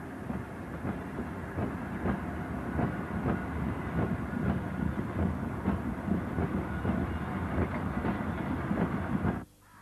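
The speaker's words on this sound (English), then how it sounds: "76010 heads another rake of merry-go-round wagons towards Guy Bridge." Class 76 electric locomotive hauling a rake of merry-go-round wagons on the Woodhead Line, a steady rumble with a regular clickety-clack of wheels over rail joints that runs close and loud, then cuts off abruptly near the end.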